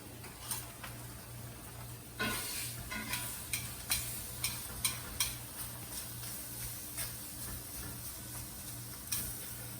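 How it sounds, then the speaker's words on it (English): Meat sears in a hot cast iron skillet, giving a quiet steady sizzle broken by a run of sharp ticks and pops at an uneven pace, with no voices. "So while I'm searing and smoking, I'll get back to you and show you the finished product"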